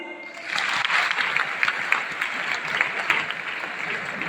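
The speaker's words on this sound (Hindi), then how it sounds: "बजाओ ताली" A large audience at a celebration event claps together in a dense, steady roar of applause that builds quickly and holds loud throughout.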